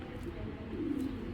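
A Giribaz pigeon gives a soft, low, muffled coo, faint and brief, over a quiet background hum.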